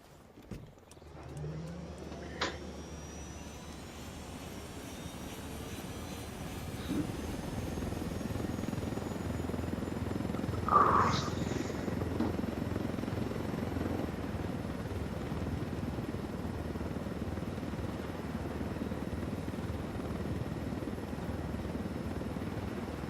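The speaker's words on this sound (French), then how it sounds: "on va reprendre l'hélico du coup" A helicopter in the video game Ghost Recon Wildlands starts up and settles into a steady, loud rotor and engine drone that holds for over twenty seconds, with a brief whine midway.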